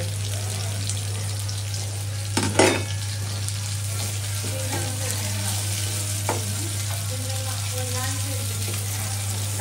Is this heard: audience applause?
no